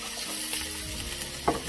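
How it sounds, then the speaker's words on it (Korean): Steak sizzles and crackles in a pan over high heat, a soft continuous frying hiss with a brief clatter near the end. "저는 스테이크 센 불에 올려놓고 굽거든요. 지글지글 소리가 아주 인상적이네요."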